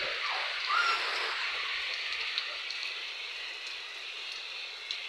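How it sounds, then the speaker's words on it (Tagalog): Heavy rain falls in a steady hiss around a workshop, close and continuous for the whole stretch, with no talk. "ang lakas ng ulan"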